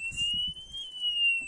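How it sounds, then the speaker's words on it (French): A camper van's alarm siren sounds as a steady, loud, piercing electronic tone held throughout with a faint upper overtone, while a low voice murmurs briefly underneath. "et là mon alarme elle est mise"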